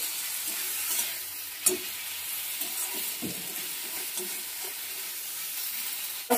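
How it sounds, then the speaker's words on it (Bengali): Spices, tomato and onion stir-fried together in a pan over a medium gas flame for a chhyachra dish: a steady frying hiss with a few soft spoon scrapes, one sharper clink near the middle, no talk. "গ্যাসটাকে মিডিয়ামে রেখে ধৈর্য ধরে মশলা, টমেটো, পেঁয়াজ সব কিছু একসঙ্গে কষিয়ে নিতে হবে।"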